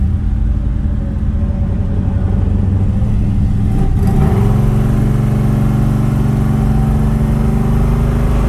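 A Dodge Coronet 440 idles with a loud, close exhaust rumble at the back of the car, then revs sharply once midway before settling into a steady, throaty idle again.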